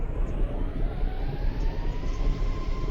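A UFO flies in a video game with a steady droning engine whine and a faint rising tone over a constant low rumble, unbroken for the whole stretch.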